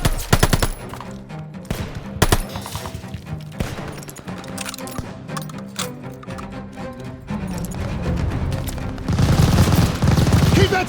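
Machine gun fire rattles through a World War II battle in Call of Duty: Vanguard, with rapid sustained bursts, heavy impacts and loud overlapping gunfire from several weapons, a shouted voice briefly audible amid the din.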